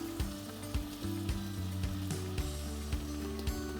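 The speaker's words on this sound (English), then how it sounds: "I'm going to add this pure cane root beer into the pot." Pure cane root beer poured into a hot pot of bear barbacoa, hissing and sizzling steadily at moderate volume, with soft stirring clicks spaced through it and no talk.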